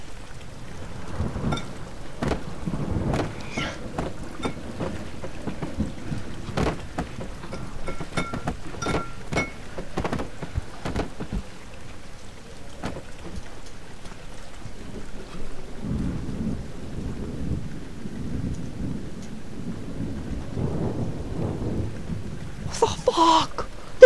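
A thunder and lightning storm in the horror game Amnesia: The Dark Descent, with low rolling rumbles and sharp cracks scattered over steady rain throughout, building to a louder burst at the end.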